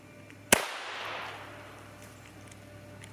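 A single sharp shot from a Taurus TX22 pistol firing cheap bulk ammunition, loud and close, followed by a fading outdoor echo and quiet.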